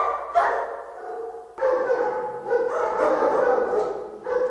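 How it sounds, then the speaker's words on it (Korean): Several village dogs bark in bursts, close and fairly loud, with barks overlapping in a rough, irregular rhythm and a brief pause before a renewed round of barking. "개들 또한 립이 지나가자 마구 짖어댔다"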